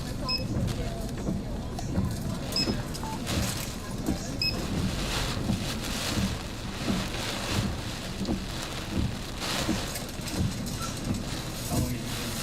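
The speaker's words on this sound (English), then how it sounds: "Too much rain hitting us" Heavy rain and strong wind from Hurricane Ida in the New Orleans, Louisiana metro area roar continuously and loudly throughout, as a dense, unbroken wash of gusting noise around a moving vehicle.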